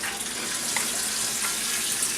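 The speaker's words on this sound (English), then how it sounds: "I have my noodles here, rinsing in this cold water." Cold tap water running over cooked manicotti pasta noodles in a kitchen sink, a steady bright hiss and splash, close and continuous without pause or talk.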